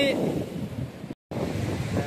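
Wind and sea waves on the Mahim seashore make a steady, loud, rushing roar with wind buffeting the microphone; the sound cuts out for a moment, then resumes.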